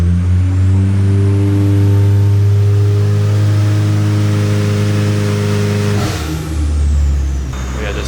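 A built Nissan S15 engine revs hard on a dyno during a power run, a loud sustained roaring tone climbing steadily for about six seconds before the revs drop, with rumbling idle noise after.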